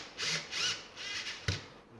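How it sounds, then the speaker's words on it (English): Short whirring bursts from a power drill driving screws into thin wood on a handmade electric bass guitar, two to three spins close by with a small knock near the end. "I'm just using the drill to put them in initially, just to save time"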